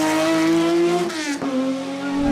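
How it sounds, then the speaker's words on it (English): A flat-six engine runs loud and steady with a strong, even harmonic drone, briefly dipping in pitch around the middle before settling back to a smooth, continuous note. "The Flat 6 engine is a very smooth running motor"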